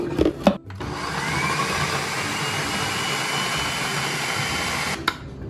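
An electric kitchen grinder running steadily for several seconds, chopping large pieces of binding ingredients for aloo seekh kabab until fine, a loud whirring motor with a few clunks as it starts and stops.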